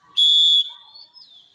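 A volleyball referee's whistle gives one short, sharp, loud blast of under half a second, followed by a faint trailing echo.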